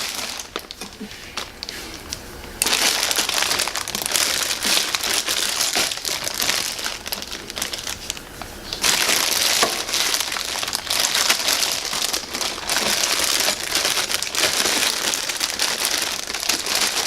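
A plastic bag is crinkled and rustled continuously at close range while a Tormach RapidTurn CNC lathe indexer is unboxed, with loud bursts of crackling and a brief quieter stretch.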